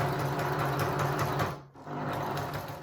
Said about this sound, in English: Do a couple of back stitches to secure, and then keep sewing all the way down across our join.